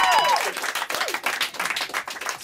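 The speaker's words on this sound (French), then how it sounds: "Je sais pas pourquoi vous applaudissez." A comedy stage audience claps in a dense, uneven burst that thins toward the end, with a few brief vocal sounds mixed in.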